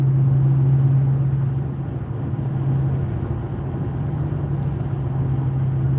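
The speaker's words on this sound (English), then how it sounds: "There goes a plower." A snow plow truck passes in traffic, a steady loud engine rumble with a low droning hum that holds throughout, with no voices.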